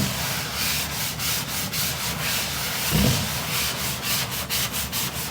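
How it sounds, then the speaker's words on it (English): A damp sponge rubs in circles over drywall to smooth ridges, making a rhythmic scraping swish that repeats steadily and close, with no speech. "I'm just going to move it in circles over the drywall, and it's going to kind of rub out any imperfections."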